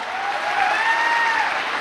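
A seated audience at a Safeshop leadership speech event gives a loud, steady round of applause that lasts the whole moment, dense and continuous with no voices above it.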